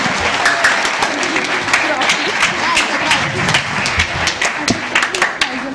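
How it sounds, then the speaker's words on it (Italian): An audience at an Italian partisans' association event applauds a group of students, with thick continuous clapping punctuated by sharp individual claps and a few voices in the mix. "L'applauso per i ragazzi,"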